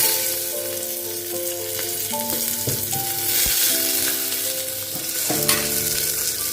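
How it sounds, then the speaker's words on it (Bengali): Chopped tomatoes with turmeric and chili powder frying in a pressure cooker for tomato rice, a steady close sizzle with stirring scrapes and a continuous bubbling hiss. "এবার আমি দেবো টমেটোগুলো যেগুলো আমি কেটে নিয়েছিলাম"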